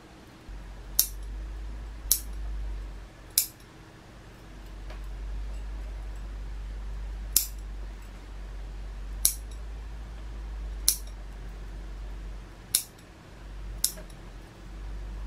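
Sharp metallic snips of pruning scissors cutting buds on a hinoki cypress bonsai, eight crisp clicks spaced irregularly over a quiet room hum, close and clear.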